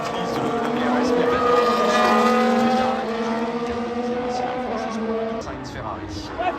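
A Formula 1 Ferrari, driven by Carlos Sainz at the 2022 French Grand Prix, passes with a loud high-pitched engine whine that rises then falls as it goes by, with crowd noise and people talking in the background.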